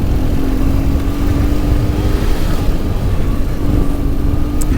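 A BMW R1200GS motorcycle on a muddy green lane on Salisbury Plain passes close by, its steady engine drone loud and continuous for the whole stretch, with no clear rise or fall.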